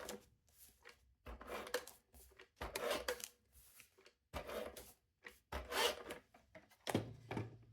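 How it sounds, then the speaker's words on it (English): A tape runner lays adhesive tape in a junk journal, producing a series of short, quiet, close rasping and rubbing strokes separated by brief pauses. "I'm going to use my tape runner"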